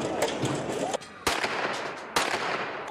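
Gunfire with live rounds at a street clash with police comes as several loud, sharp cracks over noisy background commotion, two especially strong reports about a second apart.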